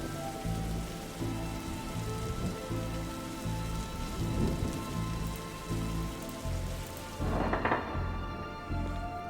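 Steady rain patters on a leaky car in the detective video game Darkside Detective. The dense, even downpour stays close and continuous, with a dull thunk near the end and no voices.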